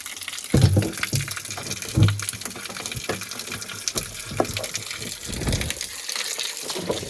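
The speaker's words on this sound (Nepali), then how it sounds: "म चाहिँ यो ग्यालिन बोकेर पानी भर्न आएको छु।" Water gushes from a tap into a plastic gallon container, a steady running pour with a couple of heavier low splashes near the start, moderately close and with no talking.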